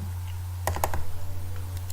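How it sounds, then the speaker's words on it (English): A computer mouse double click gives two quick, close, crisp clicks. A brief patter follows over a steady low electrical hum, with no talking. "I am going to double click now."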